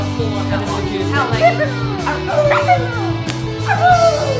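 A pet dog howls and whimpers in a home, wavering high cries rising and falling over a steady low hum, with speech-like sounds mixed in.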